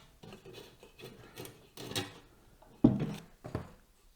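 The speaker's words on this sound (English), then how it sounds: "we just need to loosen the thumb screws at the bottom of the case" Spring-loaded thumb screws at the bottom of an Azza Pyramid Mini 806 PC case are loosened by hand, giving a series of close, quiet scraping and rubbing clicks with a sharper knock near the end and no voices.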